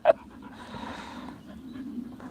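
A dog panting close by at a steady rhythm, soft and continuous, with a brief louder click or thump at the very start.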